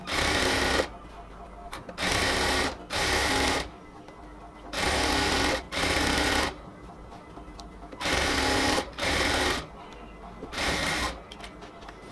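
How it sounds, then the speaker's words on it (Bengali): A sewing machine stitches stretched elastic onto the waist of a cotton salwar, running in several loud, even bursts of a few seconds each, separated by short pauses. "এখন আমাদেরকে ইলাস্টিকটাকে 2 পাশ থেকে টেনে ধরে সেলাই করতে হবে।"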